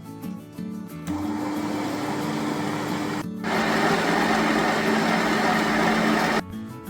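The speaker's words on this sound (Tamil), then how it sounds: "ஸ்டாண்ட் மிக்சரில் எல்லாத்தையும் போட்டு நல்லா பீட் பண்ணி எடுக்கணும்" A stand mixer beats margarine and caster sugar with a pinch of salt, a loud continuous motor whir that starts, briefly stops, then runs again at a slightly higher level before cutting off.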